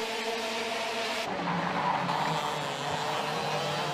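Racing karts roar past during a kart race final, a loud continuous engine drone with shifting pitch as several karts pass close by, with no talking.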